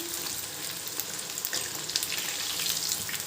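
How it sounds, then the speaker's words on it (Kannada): Steady loud sizzling of snack pieces dropped into hot oil, a dense continuous crackle with occasional stirring, close and without speech. "ಈಗ ಎಣ್ಣೆ ಕಾದಿದೆ ಈಗ ಹಾಕ್ಕೊಳ್ಳೋಣ"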